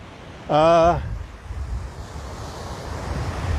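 Ocean surf washes steadily onto Kailua Beach, Hawaii, mixed with wind rumble, while a short tonal call stands out briefly near the start.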